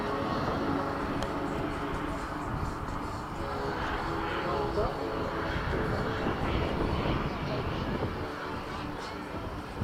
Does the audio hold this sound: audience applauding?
no